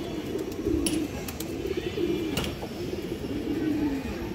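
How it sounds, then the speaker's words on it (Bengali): Pigeons coo close by in a loft, a soft repeated low warble running steadily with faint chirps above it. "সুপার কোয়ালিটির একটা মাদি কবুতর মাশাআল্লাহ"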